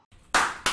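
Two sharp, bright hand claps, close and loud, spaced about a third of a second apart, after a moment of near silence, during play of the horror game Escape Miss Ani-Tron.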